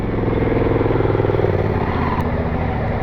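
Adventure motorcycles idle and rumble steadily as they prepare to set off from a repair shop, a loud close engine drone with no clear rise in revs.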